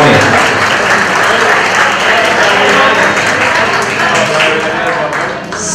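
Applause at a quinceañera court presentation as a young woman is introduced, loud sustained clapping from a large crowd, dense and even throughout before easing slightly at the end.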